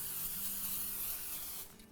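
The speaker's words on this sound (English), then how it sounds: "spray it with cooking spray" A steady, close aerosol hiss of cooking spray onto a 9x13 cake pan runs for nearly two seconds, then cuts off abruptly.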